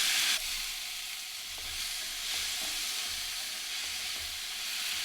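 Tomatoes go into a hot pan with plenty of oil and garlic for Afghani eggplant, setting off a steady, soft sizzle and hiss with a few faint clicks of stirring.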